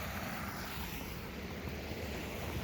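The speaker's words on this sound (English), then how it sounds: "All right, well, crossing this is Plymouth Creek." Plymouth Creek in Deer Creek Canyon, Colorado, flows with a soft, steady wash of water, fairly quiet and unbroken, with a touch of wind and no voices.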